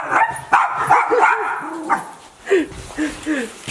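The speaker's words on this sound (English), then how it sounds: "they just start barking like crazy" Several dogs bark excitedly indoors in another room, a quick run of yips and sharp barks with whimpering, close and loud.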